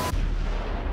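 A loud nuclear explosion sound effect in an emergency broadcast: a sharp onset followed by a sustained, heavy low rumbling roar that fills the whole second without fading.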